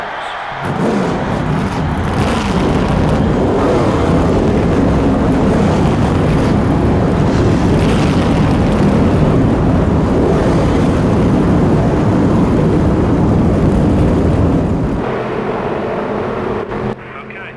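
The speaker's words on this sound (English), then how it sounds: "Gentlemen, start your engines." Race car engines in NASCAR Thunder 2003 fire up into a loud, continuous roar from many cars at once that holds steady for several seconds before easing slightly, with no voices over it.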